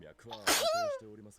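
A single close, loud sneeze bursts out mid-sentence, with a person speaking calmly before and after it.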